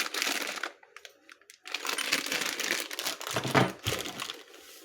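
A branded plastic packaging bag crinkles around a Knorr (Vaden) truck air compressor head, close and loud in irregular bursts with brief pauses.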